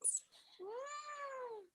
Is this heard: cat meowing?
yes